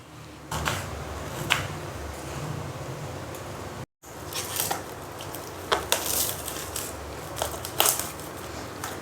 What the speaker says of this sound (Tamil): இப்போ 4 தக்காளி அரிஞ்சிக்கலாம்.